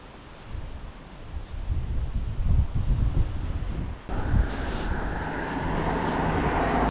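Wind gusting across open English hills near a dry bay, a loud rushing roar buffeting the microphone and swelling stronger in the second half, with no voices.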